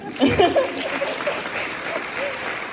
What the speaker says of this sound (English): Let's clap again, please.